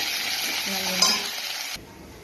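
Neem leaves crackle and sizzle in hot oil in a wok, a close bright frying hiss with a brief stir that cuts off abruptly near the end.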